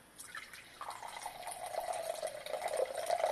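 Wine poured into a glass, a steady close gurgling stream that rises in pitch as the glass fills, quiet and alone.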